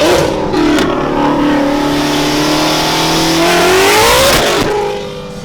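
A turbocharged 900 WHP car engine revs hard and loud, its pitch sweeping up and down in long drawn-out pulls, close by with no talking.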